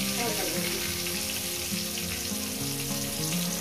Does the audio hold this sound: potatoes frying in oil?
yes